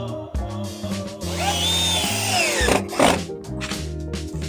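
A power drill drives a screw into a recycled tyre planter, its motor whining at a steady pitch and rising in a sweep, then a brief grinding bite as the screw seats, all loud and close.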